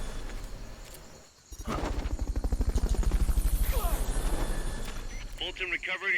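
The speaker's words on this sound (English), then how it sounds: "Fulton recovery helicopter is complete." A Fulton recovery helicopter from Metal Gear Solid: Peace Walker, with a loud, steady rotor thump pulsing throughout and a brief dip before it swells, while a person speaks over it.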